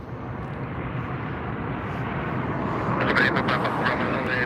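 A Finnair airliner at Los Angeles International Airport gives off a steady jet engine roar that swells slightly toward the end, with a voice talking over it.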